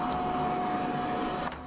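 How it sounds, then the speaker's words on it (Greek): A Siemens vacuum cleaner runs with a steady high-pitched motor whine and airy rush, close and fairly constant, cutting off abruptly near the end; no voices are heard. "Τι σκούπα είναι αυτή?"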